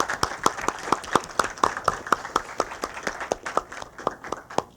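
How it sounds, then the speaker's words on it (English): A small audience at a student symposium claps in a fairly sparse, distinct rhythm, each individual clap audible and close, holding a steady pace before gradually thinning out. "So one big applause for the audience."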